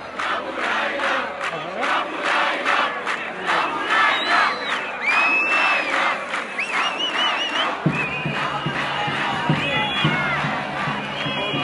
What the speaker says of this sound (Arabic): فطبيعي كان ده هتاف جمهور النادي الاهلي